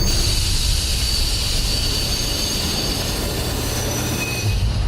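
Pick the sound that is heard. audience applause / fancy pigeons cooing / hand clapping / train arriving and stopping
train arriving and stopping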